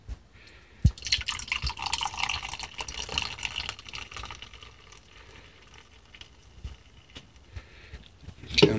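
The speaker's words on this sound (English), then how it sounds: "And pour the Chupacabra Orange Mango one first." Chupacabra Orange Mango energy drink poured into a glass, a bubbly liquid stream with dripping and splashing that starts loud, gradually thins and trickles off, ending with a final clink and splash.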